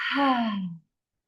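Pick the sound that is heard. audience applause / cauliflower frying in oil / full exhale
full exhale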